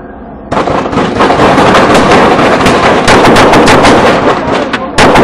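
Rapid, very loud gunfire bursts out suddenly and continues as a dense, sustained volley of overlapping shots during a police standoff with a vehicle, with shouting partly buried beneath it.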